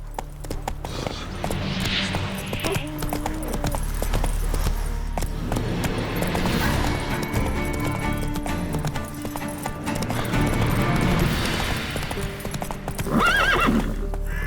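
Horse hooves gallop at a fast, steady clip in The Witcher 3, with a loud whinny breaking through and game music and ambience running underneath.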